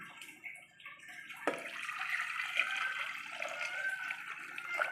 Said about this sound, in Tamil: தண்ணி இந்த அளவுக்கு ஊற்றினா போதும்